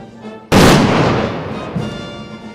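A ceremonial small-arms gun salute at an opening ceremony: one sharp, loud volley bursts out and rolls away in a long fading echo, with no talk over it.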